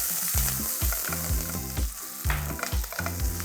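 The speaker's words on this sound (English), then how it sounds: "I'm going to add chopped garlic, chopped ginger and sliced green chili. I'm going to saute them for at least 20 seconds." Chopped garlic, ginger and sliced green chili sautéing in hot oil with crackling cumin, a continuous sizzle punctuated by rhythmic spatula scrapes against the pan, close and moderately loud.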